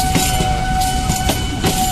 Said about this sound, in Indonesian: Jadi parcel masuk tuh sekalian ngebersihin rel dari karatnya.